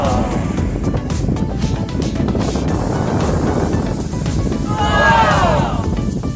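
Wind and surf at Tondaligan Blue Beach in Dagupan, Pangasinan, make a steady, dense roar of crashing waves and blowing air, with a brief wavering higher tone near the end.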